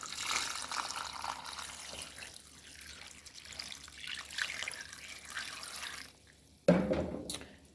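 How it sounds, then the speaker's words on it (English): Water streams steadily into a pot of sorrel for a Jamaican sorrel drink for several seconds, then cuts off briefly before a final splashy burst; no voices. "Adding the rest of my water."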